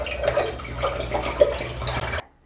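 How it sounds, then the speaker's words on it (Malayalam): Water poured into a cooking pan while making grape juice, a steady close splashing and trickling stream with a few brighter drips, lasting about two seconds before stopping abruptly. "ഇതിലേക്ക് നമുക്ക് ഒരു 500 ml വെള്ളം ഒഴിച്ചു കൊടുക്കാം."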